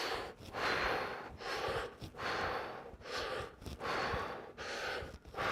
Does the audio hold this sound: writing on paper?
no